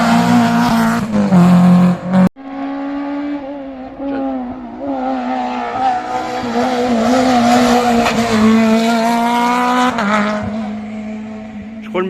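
Rally cars at a French rally roar past close by, engines revving high and straining as they climb uphill, with a sharp cut between passes and tires scrabbling.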